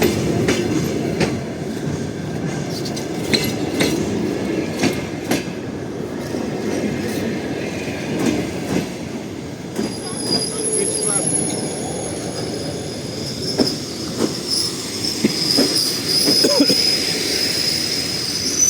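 The last Dnipro–Truskavets passenger train pulls into Truskavets station with steady rumbling, rhythmic wheel clatter and high metallic squeals from the wheels, heard close and continuously throughout.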